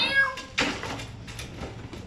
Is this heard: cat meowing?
yes